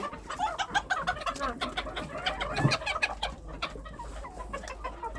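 Mixed hens, including Australorps, Cochins and bantams, cluck in irregular bursts in a winter yard, a busy flock with several birds calling close by and no talk over them.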